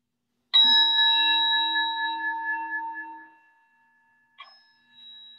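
A chime is struck once to open a service, ringing out bright and sustained before fading over a few seconds, followed by a softer, brief second chime.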